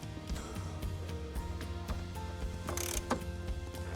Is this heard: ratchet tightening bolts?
yes